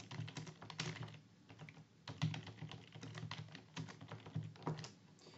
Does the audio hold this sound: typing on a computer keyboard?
yes